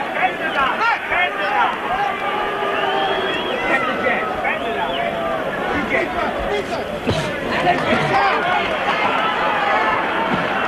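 Crowd at the Frank Bruno vs Reggie Gross boxing match, a steady, loud roar and babble of shouting fans that carries on throughout, with a commentator talking over it.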